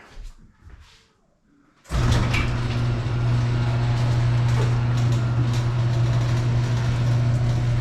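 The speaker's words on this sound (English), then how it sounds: "I'm gonna pop the garage door" A motor starts after a brief quiet and drones steadily with a rattling mechanical hum, like a garage door rolling open, close and continuous.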